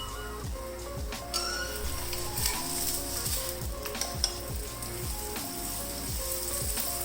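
Lachha paratha frying in ghee on a hot pan gives a steady close sizzle and crackle, with a few soft scraping stir sounds across the pan throughout.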